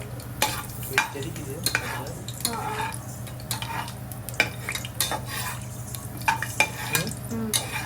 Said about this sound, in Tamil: ஏலக்காய் பொரிஞ்சிச்சுல